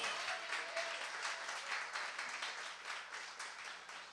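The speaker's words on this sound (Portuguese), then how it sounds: "vamos dar uma linda salva de palmas ao Senhor" A church congregation claps for the Lord in a steady, dense burst of applause that sounds fairly distant and soft.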